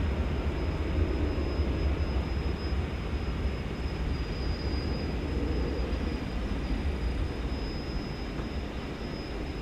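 A domestic wide-body airliner at DFW Airport roars steadily at a distance, a broad sustained rumble with a faint high whine that slowly eases.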